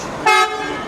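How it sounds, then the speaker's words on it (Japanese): A single short, loud vehicle horn toot in heavy Cairo street traffic, lasting about a fifth of a second over steady road noise. "道路は人と車でめちゃくちゃ混んでて、クラクションずっと鳴ってますね。"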